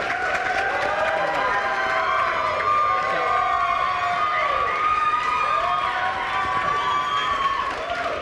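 An audience applauds and cheers at a start-up challenge grand finale, with loud, dense clapping and whoops sustained throughout, voices shouting within the crowd noise.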